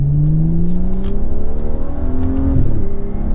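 A 2015 BMW 535xi sedan accelerating hard, its engine note rising steadily and loudly from up close, then dropping sharply at a gear shift before climbing again, with no talking over it.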